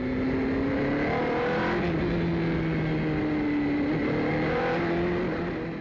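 Asian Le Mans Series race cars at the hilly Inje circuit, engines howling loudly as they come through a left-hand bend and accelerate, steady revving tones shifting in pitch with no talk.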